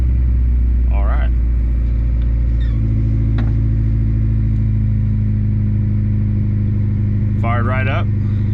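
A Honda Integra car engine fires up and settles into a loud, steady idle with a low, even hum, while voices speak briefly over it.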